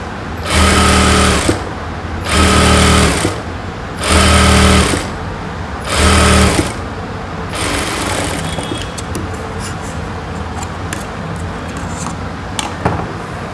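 A sewing machine stitches a bias-cut cross piece onto a blouse, four loud, close whirring runs of about a second and a half each with brief pauses, followed by quieter handling noise.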